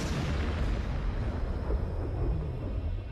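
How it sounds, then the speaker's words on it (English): A salvo of celebratory cannon fire booms in a dense, rolling rumble of overlapping blasts, loud and continuous with no clear gaps between shots, like a wartime victory salute. "Stalin institutes the salvo of cannons to celebrate each victory."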